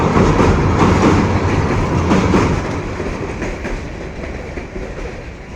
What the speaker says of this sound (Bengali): ব্রিজের উপর দিয়ে চলে যাচ্ছে ট্রেনটি